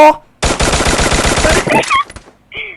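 A loud sustained burst of rapid automatic gunfire in the Free Fire battle royale game, about one and a half seconds of steady shots, followed by brief game effects and a short voice.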